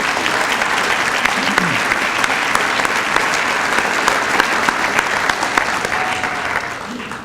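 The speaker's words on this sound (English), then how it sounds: "Let's give them all a big round of applause, please" Sustained, steady applause from an audience at a Hall of Fame celebration, honoring inductees, filling the whole stretch with dense clapping that fades slightly at the very end.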